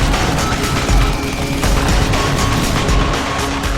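Weapon fire from the video game Deus Ex: Human Revolution. A dense, loud barrage of rapid shots and booms continues without a break, with no talking.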